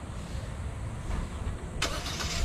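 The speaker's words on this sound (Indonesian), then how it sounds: "Kemudian dia bisa menyalakan mesin dari handphone." An SUV engine starts up on a remote command sent from a phone, the ignition bursting in near the end over a steady low background rumble, close and fairly loud.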